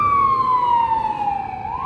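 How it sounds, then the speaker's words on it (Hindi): A loud wailing ambulance siren in Italy sweeps slowly downward in pitch, close by, over faint traffic rumble. "ये यहाँ का एम्बुलेंस से बहुत आवाज़ करता है"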